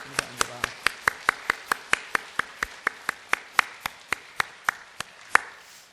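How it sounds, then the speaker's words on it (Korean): A congregation at Buyeo Central Holiness Church claps in encouragement during a Korean worship service: about twenty sharp, evenly spaced claps in a steady, brisk unison rhythm, close and clear over a quiet room. "서로 한번 격려 박수합니다"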